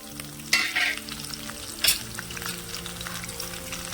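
Cumin seeds and peanuts frying in hot oil in a pan for tamarind pulihora, a steady close sizzle with two sharper bursts of crackling as ingredients hit the oil, then a softer continuous fry.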